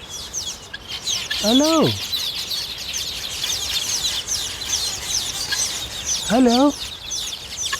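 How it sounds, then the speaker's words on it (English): A guinea fowl gives two separate rising-and-falling calls several seconds apart outdoors, over a constant background of chirping birds, while a person speaks briefly in between. "The guinea fowl."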